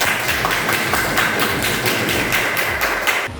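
Classroom applause from a group of students, a dense burst of many hands clapping steadily and close for a few seconds, with no talking.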